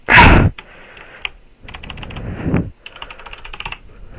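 Typing on a Logitech G710 mechanical keyboard with brown switches, bursts of close, clacky keystrokes separated by a brief pause, with a loud thump at the start.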